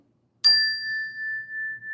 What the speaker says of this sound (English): I'm going to ring this little bell